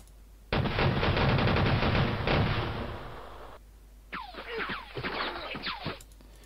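Gunfire in the Civil War strategy game Battleground: Antietam: a loud, rolling crackle of massed rifle volleys for about three seconds, a short pause, then a second ragged burst of shots with no talking.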